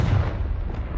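An explosive Confringo spell in the video game Hogwarts Legacy lands as a short, heavy boom with a rumbling low-end burst that fades quickly, with no voices.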